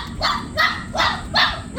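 Bully kutta puppies barking, four short yipping barks at an even rhythm, close and fairly loud.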